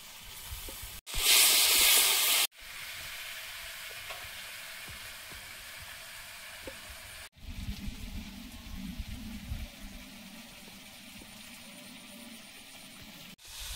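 Chopped tomato goes into a hot pan of taro and spices, bursting into a loud, sharp sizzle that settles into a steady frying hiss, then a stirred, bubbling fry later on; no one speaks.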